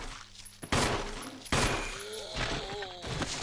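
Gunfire from the video game Resident Evil HD Remaster, two loud broadband blasts with ringing tails about a second apart, followed by a further burst, over a faint game ambience with a voice talking underneath.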